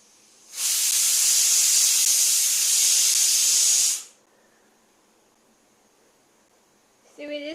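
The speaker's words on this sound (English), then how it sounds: "we're just boiling some potatoes" Steam hisses loudly and steadily from a pot of potatoes boiling for a masala filling in a home kitchen, a broad continuous rush lasting a few seconds before cutting off, with a brief voice near the end.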